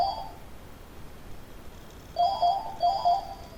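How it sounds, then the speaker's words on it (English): A telephone rings in an indoor room with repeated short electronic trills, one burst at the start and two more close together near the end, fairly quiet and with no talk over them. "Do you need to take that, Sheila?"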